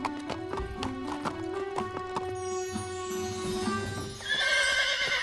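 Cartoon horse with shiny coat, hooves clip-clopping in a quick series of distinct knocks, then a loud neigh rising at the end, over soft background music.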